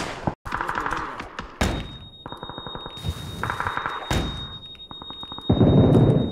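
Gunfire in a first-person shooter video game, with loud bursts of rapid shots and sharp single cracks broken by short gaps, close and punchy over game effects.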